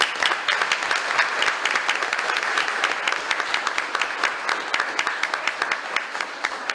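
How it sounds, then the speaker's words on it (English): Applause at a city commission meeting for 24 students who reached state competition: a full room clapping steadily, close and loud, with no talk over it. "I think that deserves a round of applause."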